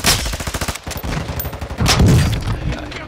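Automatic gunfire in Call of Duty: Modern Warfare II, loud rapid bursts of shots throughout with a heavier boom midway.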